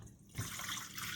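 Water poured into a bowl of flour, salt, yeast, sugar and seed mix for a gluten-free seeded loaf, a soft close trickle that begins after a brief pause and continues steadily.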